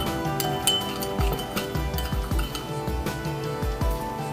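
A metal spoon clinks repeatedly against a bowl while lemon juice and sugar are stirred together, bright taps landing in an uneven rhythm, close and clear with no talking.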